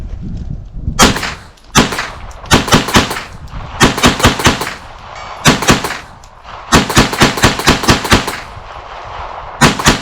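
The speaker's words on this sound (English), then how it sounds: "So every time I shoot, the gun's jumping" A 9mm pistol fires in fast bursts at a shooting range, sharp loud cracks arriving in clusters of two to four with brief pauses between groups, close and dominant with no talking.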